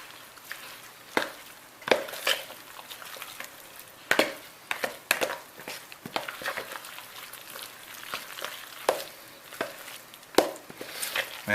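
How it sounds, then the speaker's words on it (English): Chicken pot pie filling stirred by hand in a bowl or pan, with soft scraping and irregular wet clacks of a utensil, close and fairly quiet with no talking. "Now we're just going to mix it together."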